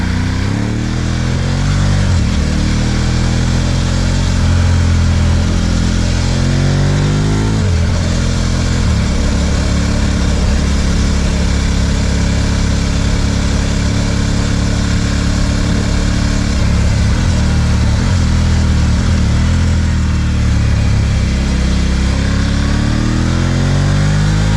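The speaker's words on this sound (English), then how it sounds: "just a symphony of V-twin mechanical mayhem" A KTM 990 SMT V-twin motorcycle engine runs loud and close, with a deep throbbing idle that swells and falls through several revs over a sustained stretch, with no talking.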